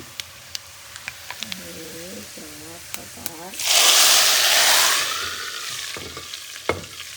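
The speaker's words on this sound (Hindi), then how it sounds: "दाल के अंदर अब इसी में मैं कर लूँगी अपनी मिर्ची फ्राई" Chillies hit hot oil for a dal tempering, giving a sudden burst of loud sizzling that lasts a second or two and then dies down. Scattered clicks and a short stretch of a voice come first.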